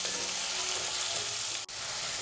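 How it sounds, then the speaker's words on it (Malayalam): Chopped tomatoes sauté in a pan for a Kerala chicken pori vara, a brief steady hiss of frying heard close up, with one short break near the end. "തക്കാളിയും ചേർത്ത് കൊടുത്തതിന് ശേഷം വീണ്ടും നമ്മൾ നന്നായിട്ടൊന്ന് വഴറ്റി കൊടുക്കണം"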